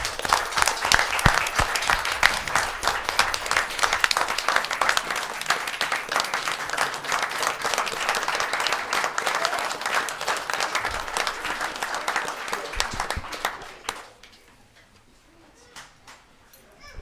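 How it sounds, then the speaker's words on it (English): Applause from a city council meeting audience for a young baseball team, a sustained wash of many hands clapping for about fourteen seconds, then fading to near quiet with a few scattered claps and faint room noise. "give these young men a big round of applause for their hard work as well"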